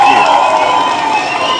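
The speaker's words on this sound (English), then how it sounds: "let's give Zerp a round of applause," A crowd cheers and applauds a guest in a loud, sustained burst, with shouting voices mixed into the clapping and the noise easing only slightly over a second and a half.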